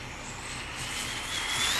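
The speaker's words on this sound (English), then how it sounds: "Let's wait till this car passes." A vehicle's whooshing hiss grows gradually louder as it approaches and passes, a steady broadband rush swelling toward the end.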